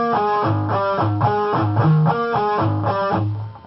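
A distorted electric guitar plays a repeating riff of chugging low notes and bright chords, steady and close, with no voices.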